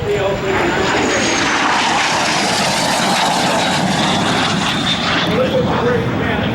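An L-39 jet flies past at the EAA AirVenture Oshkosh airshow, a loud continuous engine roar with a slowly shifting whine, heard under public-address commentary.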